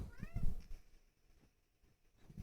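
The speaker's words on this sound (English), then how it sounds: "I'm trying to get Harvey to meow on camera." A pet cat gives a short meow close to the microphone, followed by quiet room noise and a faint sound at the end.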